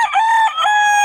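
A rooster crows once at a market, loud and close, a drawn-out harmonic call with a brief break in the middle.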